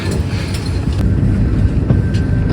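A high-speed train in Spain heading to Madrid hums steadily from inside the carriage, with a continuous low rumble of rolling wheels and faint mechanical whine throughout.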